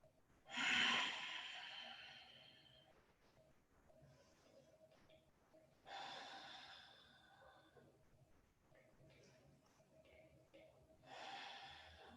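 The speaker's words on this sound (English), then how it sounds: "One more full deep breath here" Slow, deep breaths during a yoga hips flow, three long audible inhale-exhale cycles spaced several seconds apart, close and soft, with quiet gaps between them.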